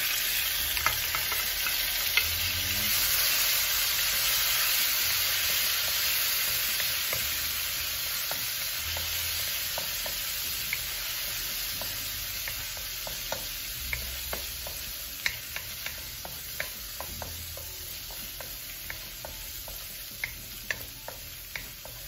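Garlic frying in a hot kawali for crispy pork belly kare-kare: a steady, close sizzle that runs unbroken, sprinkled with sharp little pops and crackles that grow more frequent toward the end.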